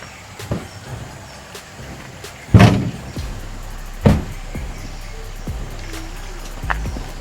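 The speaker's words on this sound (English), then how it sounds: "Now let's just pop up the hood and look at what's inside." Hood of a 2016-2017 Hyundai i20 Elite 1.2 petrol hatchback being released and raised, giving two solid close thumps of the latch and panel over a quiet outdoor background with a few lighter clicks.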